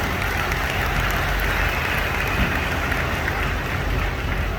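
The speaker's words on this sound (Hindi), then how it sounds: "एक बार चाहूँगा इस इंडस्ट्री के लिए जोर तालियां होनी चाहिए" An audience at a business seminar applauds, a dense, even wash of clapping that holds steady and fairly loud throughout without pauses.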